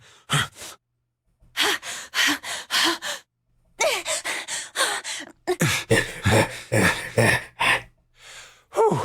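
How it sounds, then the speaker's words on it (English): A video game character in 999 pants heavily after running, quick breathy gasps in rapid bursts with a few short pauses, close and loud with no talking. "That's a lot of panting."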